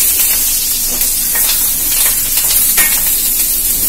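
Peppercorns sizzle in hot oil for a bone soup, a loud close continuous hiss and crackle with small pops throughout.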